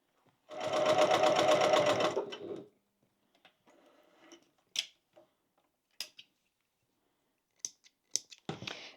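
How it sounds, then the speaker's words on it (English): A sewing machine bastes around the bottom of a crossbody bag in a quick, rhythmic two-second burst of stitching. Faint handling taps and small clicks follow in a quiet room, with no talking. "I suggest basting around the bottom"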